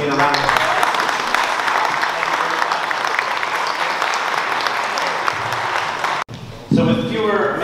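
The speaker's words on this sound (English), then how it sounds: "I want to again ask you please to join me in a round of applause" An audience at a community candidates forum in the City of Langley claps in a full, steady round of applause that breaks off abruptly near the end, followed by a brief voice.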